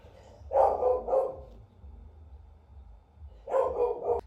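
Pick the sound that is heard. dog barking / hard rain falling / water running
dog barking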